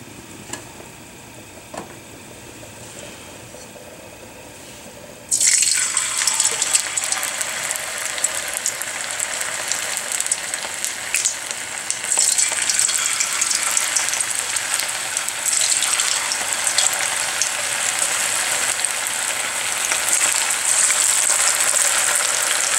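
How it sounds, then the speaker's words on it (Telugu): Battered cauliflower dropped into hot oil for gobi manchurian sets off a sudden, loud, crackling sizzle that keeps bubbling steadily near at hand after a quiet start, with no one speaking. "ఇప్పుడు దీన్ని ఆయిల్ పెట్టి ఫ్రై చేద్దాం"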